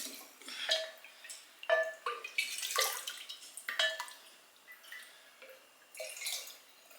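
Apple juice poured into a glass quart jar gives a quiet run of splashing, glugging bursts with short pauses between them, up close with no talk.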